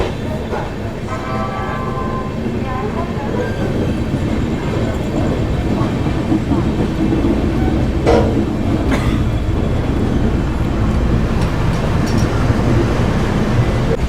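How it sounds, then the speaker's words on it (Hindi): The Ayodhya Cantt Express, train 14206 from Delhi to Ayodhya, running past Moradabad: a loud, steady rumble of the passenger train in motion with faint wheel clatter and brief squeals, heard from on board. "बाकी चलिए दोस्तों, निकल चुकी है अपनी अयोध्या कैंट एक्सप्रेस।"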